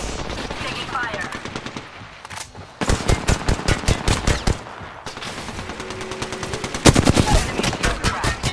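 Bursts of automatic gunfire in Apex Legends, loud rapid strings of shots broken by short pauses, growing heavier toward the end, with a faint game voice line in the mix.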